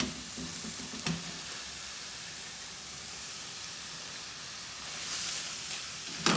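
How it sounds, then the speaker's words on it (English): Cooked leftover turkey is stirred into a thick tikka masala sauce in a pan, a soft steady sizzle with faint scraping of the spoon, quiet and close. "just stir that to coat all of the meat with a lovely sauce"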